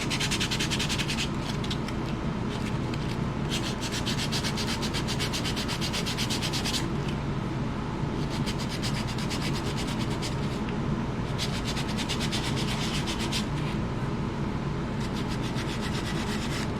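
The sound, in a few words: sanding wood with 220 grit sandpaper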